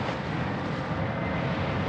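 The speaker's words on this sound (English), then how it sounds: "Now if I give it full throttle in a second, it's going to give it full throttle now." A motor running at full throttle, a dense, steady broadband drone that holds constant and loud throughout the brief stretch with no pauses or talk.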